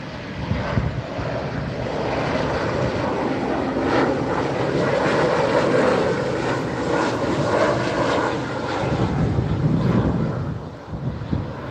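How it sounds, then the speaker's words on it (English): An Eastern Airways plane lands in a crosswind at Newcastle Airport, its engines giving a loud, steady roar with wind buffeting the microphone throughout, easing slightly near the end. "That's Easton Airways down."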